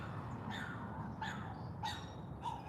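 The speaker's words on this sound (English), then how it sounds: "What is wrong with the dog? He's just sitting there barking." A French Bulldog gives four short barks spaced about a second apart, heard at moderate distance over a low background hum.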